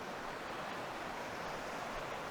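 Steady broadband rush of a river flowing beside the Ingleton waterfalls trail, continuous and fairly faint, with no voices.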